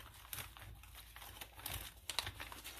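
A paper envelope handled during bookbinding of a nature journal: soft close crinkling and rustling with small taps and scrapes at irregular moments, faint and without talk.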